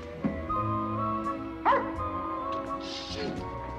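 A man imitates a dog's bark with his voice, giving a couple of short yip-like barks indoors over a steady background hum.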